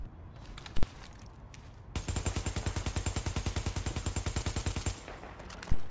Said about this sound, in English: this is the recoil just like burst firing the MP5